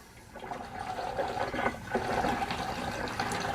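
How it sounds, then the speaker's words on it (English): Distilled water pours from a gallon jug into the reservoir of a CW-5000 laser water chiller, making a steady, close splashing and gurgling that runs without a break. "We're about halfway with the first gallon of distilled water."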